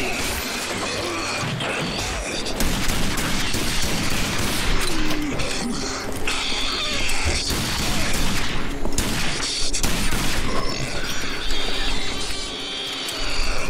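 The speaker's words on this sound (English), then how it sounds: "Oh, I'm shooting in the wrong place." Gunfire in the first-person shooter RAGE, a dense loud barrage of shots with crashing, shattering impacts running almost without pause over a steady game backdrop.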